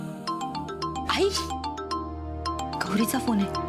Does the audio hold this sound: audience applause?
no